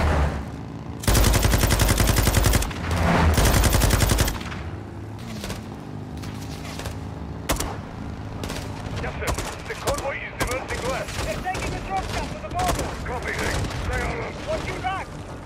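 Gunfire from the Modern Warfare 2 campaign video game, with a loud burst of rapid shots early on and then scattered, busier battle noise with impacts and clatter for the rest of the stretch.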